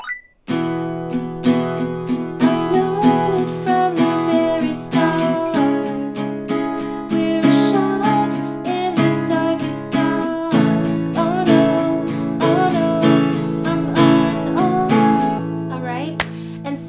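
Acoustic guitar strumming steady chords with a regular rhythm while a voice sings along, a close, clear performance of a song running continuously for the whole stretch.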